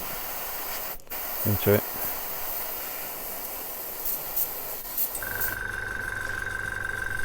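Steady close hiss of an airbrush spraying paint onto a Revell 1:144 Saturn V model rocket second stage, running continuously with a few brief clicks and a speaking voice briefly over it.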